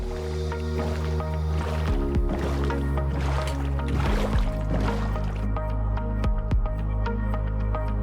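Boat gliding across water in Minecraft, a steady wash of paddling and splashing that carries on throughout, close and moderately loud over a busy game backdrop.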